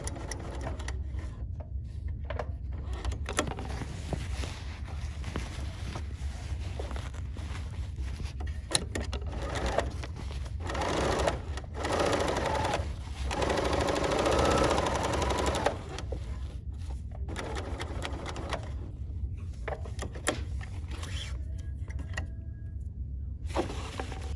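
A Bernina L 890 sewing machine stitches faux Burberry plaid fabric in close, steady whirring runs. Brief pauses and shifts in pace break up the stitching, like stops to pivot the fabric.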